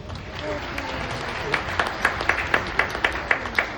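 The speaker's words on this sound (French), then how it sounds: "on peut applaudir Kai" A small group claps for Kai, the clapping growing from scattered hits into a more regular rhythmic beat that sits under a background of voices and murmur.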